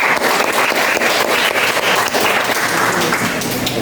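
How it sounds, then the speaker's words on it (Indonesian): Applause for a student group in a university classroom, a steady dense clatter of many hands clapping together, loud and sustained for several seconds with no break. "Untuk kelompok sebelah kanan bisa kita berikan aplaus"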